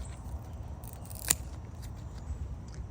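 A single sharp snip of scissors cutting garden plants in a fall home garden, brief and close, standing alone over a quiet outdoor background.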